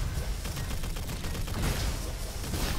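The Fox Gun starter pistol in the game Roboquest fires rapidly in a dense, continuous volley of loud, close shots mixed with busy game noise.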